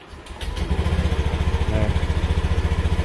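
Used motorcycle engine, a bike about four months old with 2,620 km on it, starting up and revving, its loud, steady rhythmic putter pulsing close by and alone after a brief start.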